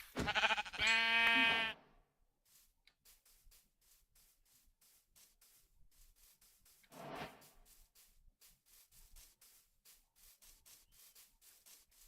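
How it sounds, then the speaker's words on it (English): A goat bleats once in the Minecraft video game, a short, fairly faint nasal call on its own, following a brief louder sound at the start, over a quiet background of light ticking. "There's a goat up there."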